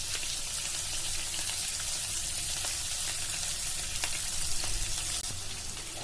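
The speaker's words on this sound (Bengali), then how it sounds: "এবার আমি মশলাটাকে খুব ভালো মতো কষিয়ে নিব" A spice paste of ginger paste and yogurt fries in a pan, giving a dense, even hiss of sizzling with scattered crackles and pops, close and steady, and no one speaks.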